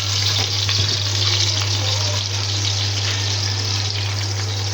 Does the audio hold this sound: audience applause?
no